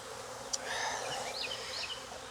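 Honeybees buzzing steadily around an open beehive with nurse bees on the frames, a close, continuous drone with no talk.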